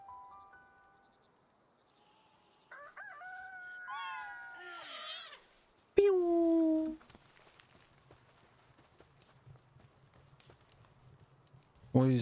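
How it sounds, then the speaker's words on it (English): A cat-like Pal fights in the creature-collecting game Palworld, letting out a few rising, strained meows and yowls against a faint insect-like chirping background, ending with a sudden loud burst. "Why is that cat fighting?"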